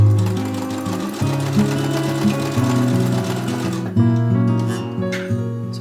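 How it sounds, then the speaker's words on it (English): A sewing machine with a ballpoint needle runs in steady rapid stitching bursts while mending clothing, close and clear, with a brief pause and restart. "Right, back on the sewing machine."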